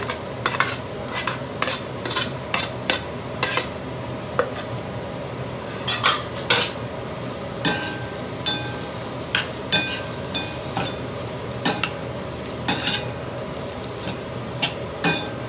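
Fried onion and capsicum are stir-fried in a pan for honey chilli potato, with a spatula clinking and scraping in sharp repeated strikes over a constant sizzle.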